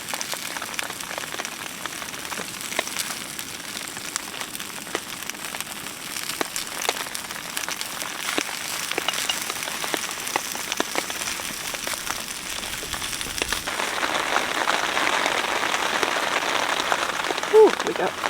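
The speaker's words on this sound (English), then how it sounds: "we got rain coming in" Rain patters steadily on a tent with scattered sharp drops, and the patter grows heavier toward the end.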